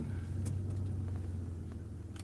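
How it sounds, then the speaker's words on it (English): Truck engine running as the vehicle creeps along after repairs, a low steady rumble with a few faint knocks and clicks on top, fairly quiet and close. "as I drive this a little bit, spent 2-3 days working on this truck"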